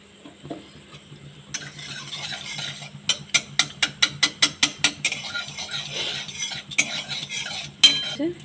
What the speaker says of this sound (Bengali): 1 চামচ বাটার দেবো।